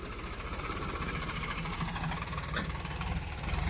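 A tractor engine runs steadily nearby on a farm during cotton work, a continuous loud rumbling drone with a slight knocking throb and no pauses.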